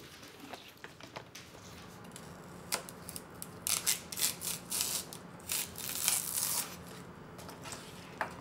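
Knife cutting washed celery crosswise into pieces for Korean L.A.-style pickles, heard as a series of crisp, close chopping crunches that start sparse and quickly become a steady run of cuts.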